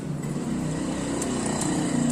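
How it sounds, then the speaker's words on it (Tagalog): A noisy Yamaha NMAX scooter engine runs steadily, its rough mechanical rattle from a loose cam chain and tensioner constant and fairly loud throughout, with no talk over it. "Ang ingay po niyan pagka umaandar na po yung makina."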